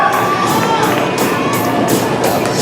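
A roller derby crowd cheers loudly for a jammer pushing through the wall, a dense, continuous roar of shouts and applause with rhythmic bursts, close and filling the space.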